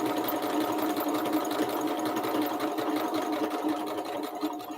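A sewing machine stitches a quilt block, humming in a steady, moderately loud run that continues without pause.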